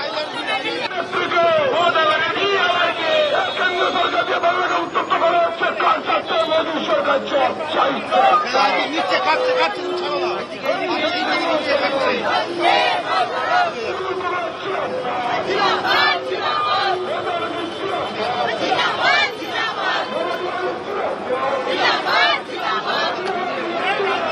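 Trinamool supporters on a protest march in Hazra chant and shout as a dense crowd, a loud, continuous wall of voices with overlapping cries that stays steady from start to finish.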